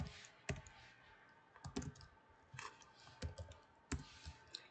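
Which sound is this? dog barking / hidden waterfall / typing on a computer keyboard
typing on a computer keyboard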